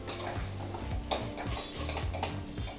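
Masala powders for a mutton gravy being stirred in a hot pan, with close, continuous scraping and a soft sizzle, plus repeated spoon knocks against the metal.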